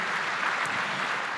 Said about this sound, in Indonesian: Tepuk tangan sekali lagi buat Tuhan kita Yesus Kristus.